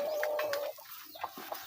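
Native chickens at an improvised split-bamboo feeder give soft clucks and short calls close by. A brief sustained tone comes first, then scattered quiet pecking sounds and clucks.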